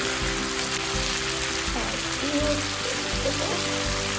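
Chicken with salt and chilli frying in a pan, a steady close sizzle that hisses continuously like rain under a low hum, while a voice speaks faintly over it.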